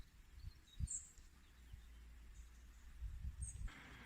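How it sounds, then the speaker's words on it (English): Birds chirp out in the Algarve countryside near orange trees: a few faint, far-off calls over a quiet, low rumbling background, with small soft knocks nearby. "just the sound of the birds singing"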